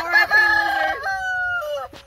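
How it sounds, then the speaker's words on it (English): Chickens eating a lizard give loud, drawn-out calls close up, two long strained cries that fall in pitch. "That chicken has the lizard hanging out of its mouth."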